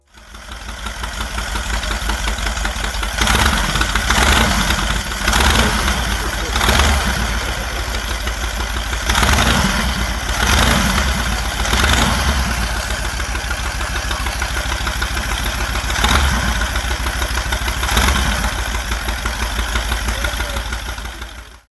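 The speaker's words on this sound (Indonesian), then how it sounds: "membuktikan kalau mesin buatannya ini layak jalan dan berfungsi penuh seperti halnya sepeda motor pada umumnya" A custom V-twin motorcycle engine built with 2400cc aircraft cylinders runs loud and close, a rough, heavy idle punctuated by repeated sharp throttle blips and revs throughout, with no voices.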